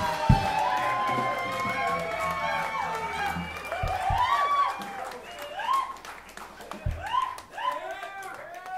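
Audience at Ashkenaz cheering and clapping for guitarist Hux Brown at a live show, with whoops, shouts and applause, while a voice talks over the crowd.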